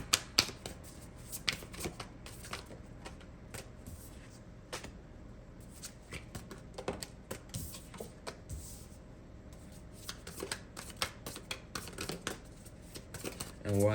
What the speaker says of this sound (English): just allow these cards to shuffle